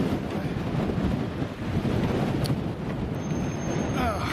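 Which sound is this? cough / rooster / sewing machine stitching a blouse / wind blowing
wind blowing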